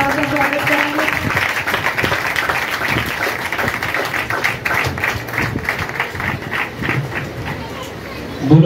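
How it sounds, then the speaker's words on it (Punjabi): A Christian church congregation claps together in a steady rhythm, the claps thick and continuous beneath a voice speaking over them. "ਆਓ ਅਸੀਂ ਤਾੜੀਆਂ ਦੇ ਨਾਲ ਖੁਦਾ ਦੇ ਨਾਮ ਦਾ ਸਵਾਗਤ ਕਰਾਂਗੇ।"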